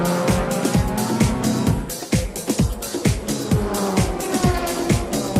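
JGTC GT race cars, including the pole-sitting Motul Pitwork Z on slick tyres, roar past one after another, each engine note rising and then dropping sharply as it goes by, close and loud with no voices.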